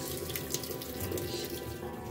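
Water pours steadily into an American Home automatic washing machine that keeps filling and will not stop, a continuous rushing hiss like a running tap, close and fairly loud, with no voices.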